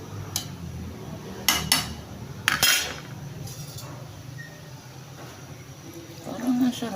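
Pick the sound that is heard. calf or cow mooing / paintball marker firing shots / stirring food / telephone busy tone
stirring food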